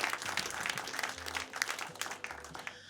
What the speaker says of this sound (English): You can clap for them too as well.